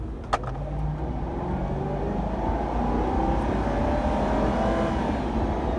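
A Ford Crown Victoria Police Interceptor pulls hard from a standstill to 50 mph, its engine note a steady, loud, low roar that builds and holds throughout, heard from inside the car with no talking.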